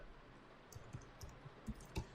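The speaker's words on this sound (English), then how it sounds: "now give the password of your server." A few soft keyboard key clicks while a server password is typed on a computer, scattered and faint in a quiet room, with no talking.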